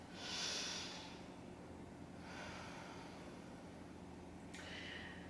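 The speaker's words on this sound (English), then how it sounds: "Deep breath in and out." Slow, deep breaths during a beginner yoga session, three airy inhale and exhale sweeps at an even pace, faint and close with no talking.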